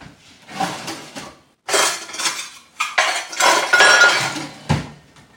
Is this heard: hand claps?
no